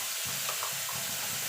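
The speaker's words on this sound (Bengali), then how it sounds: "এখানে যে আদা রসুন পেঁয়াজ আর শুকনো লঙ্কা পেস্ট করে রেখেছিলাম সেটা দিয়ে দেবো।" Ginger, garlic, onion and dried chili paste hits hot spice tempering in oil with a steady close sizzle, and a brief stirring scrape runs through the frying hiss.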